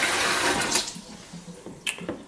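Water pours into a baby bottle warmer for about a second, then trickles and drips as it is topped off, ending with a short splash, close by in a quiet room.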